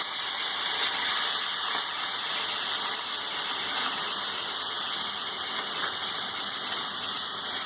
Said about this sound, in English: Now we'll add our onions, chopped onions.